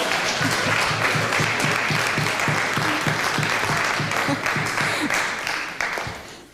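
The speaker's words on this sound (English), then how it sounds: "there's applause from both men and women here" Sustained applause from a mixed crowd of men and women at a lecture hall talk, loud and dense throughout, tapering at the end, with a speaker's voice faintly underneath.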